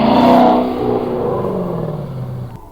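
A Dodge Charger pulls away, its engine revving loud and close at first, then the pitch sliding down as the car drives off and fades, ending with a brief click.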